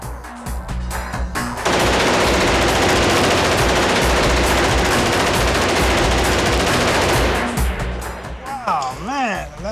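Bursts of gunfire from a gun fired from the hip, a sustained loud automatic volley lasting several seconds, preceded by shuffling and followed by a fading ring and voices.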